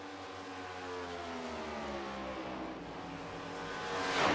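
Race cars roar around the Auto Club track in a Doghouse Racing League event, a steady droning engine pitch that rises and swells louder toward the end.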